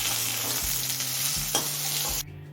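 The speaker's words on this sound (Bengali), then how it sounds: "এবার এই সবজিগুলো একটু ভেজে নেব" Cut vegetables, including pointed gourd, frying in mustard oil in a pan, a steady loud sizzle with brief stirring scrapes and a low hum, ending abruptly.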